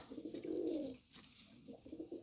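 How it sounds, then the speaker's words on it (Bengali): Racer pigeons cooing close by in a loft, a soft, rounded low coo swelling once and then repeating in shorter bursts, fairly quiet with light background noise. "এই দেখেন রেসার কবিতর এগুলা রেসার"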